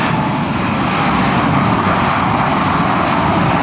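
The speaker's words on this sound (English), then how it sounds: "Airplane landing from Lisbon," Airliner at Funchal airport on Madeira, arriving from Lisbon onto a very short runway, a steady broad engine roar that stays loud and even throughout with no voices over it.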